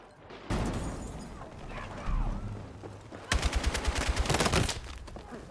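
Gunfire in the video game Battlefield 6: a burst of shots, then a rapid automatic volley of sharp loud reports near the end, over a rumbling battle backdrop.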